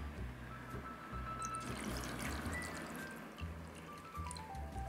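Water pours steadily into an Instant Pot for several seconds, a soft continuous splashing trickle at moderate distance, with no one talking.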